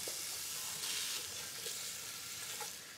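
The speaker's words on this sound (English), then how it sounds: "I'm going to toss it into my heated up ghee for about 10 minutes" Sliced onions fry in heated ghee with a soft, steady sizzle and a few small pops, quiet and close, with no voices heard.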